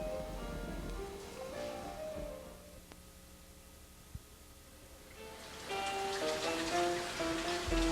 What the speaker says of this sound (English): now we are rinsing the vegetables to be put into the pot